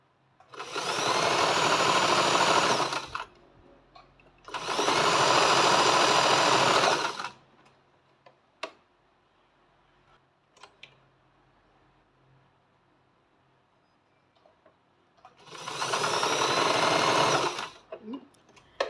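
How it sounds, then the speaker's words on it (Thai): A sewing machine stitches a triangular fabric piece used to widen a garment's bust, running in three loud bursts of a few seconds each, separated by quiet pauses with small clicks. "เย็บกันลุยทั้ง สามด้านเลยนะคะ"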